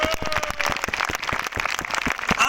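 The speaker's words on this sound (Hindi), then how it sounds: "आपके न्यू गेस्ट के लिए जोरदार तालियां" A crowd at a gathering claps loudly to welcome new guests. Sharp, close hand claps come thick and fast in a lively, uneven burst.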